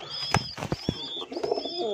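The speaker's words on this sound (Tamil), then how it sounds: "இது சாதா புறா மேல் தான்" Domestic pigeon, a plain common breed kept at home, cooing close by in a few soft throaty bursts with faint chirps and rustling in the background.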